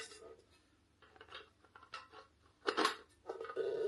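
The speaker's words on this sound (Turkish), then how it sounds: "Ve hamur yoğurma aparatını ekliyorum." A kneading paddle clicks and clatters as it is fitted onto a Tefal bread maker, with quiet plastic and metal handling noises and a louder rattling snap near the end.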